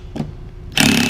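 An impact driver runs in reverse to back a screw out: a brief whir, a short pause, then a loud, dense, rapid hammering rattle that continues steadily at close range.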